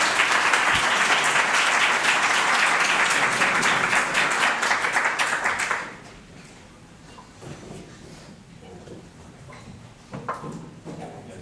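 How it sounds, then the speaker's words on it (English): Steady applause from a conference session audience thanking its speakers fills the first six seconds, then stops abruptly, leaving a quiet room with faint shuffling and scattered small knocks. "Let's have a round of applause to our speakers."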